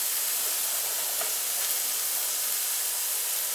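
Steak frying in a pan, heard as a loud, steady, close sizzle and hiss that stays even throughout with no talking.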